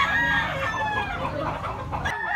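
A big bullstag gamecock rooster crows loudly and close by, one drawn-out crow filling the whole moment with no talking.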